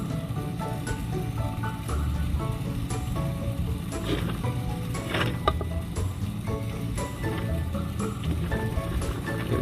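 Bubbles rise through the water inside a well, a steady dense fizzing and gurgling with scattered small pops, continuous and fairly loud throughout.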